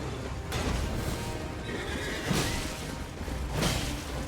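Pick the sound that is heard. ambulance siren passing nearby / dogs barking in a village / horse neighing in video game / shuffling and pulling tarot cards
horse neighing in video game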